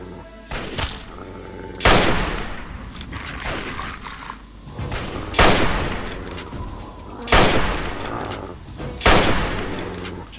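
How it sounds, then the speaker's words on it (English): Hunting rifle gunfire in Fallout 3: about five loud, sharp single shots spaced irregularly over a steady background rumble, each with a short ringing decay. "Let's see if our hunting rifle gets in range here."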